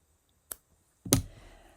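Scissors snip yarn while trimming loom weaving, a faint click followed by a sharper, louder cut about half a second later, close up in a quiet room.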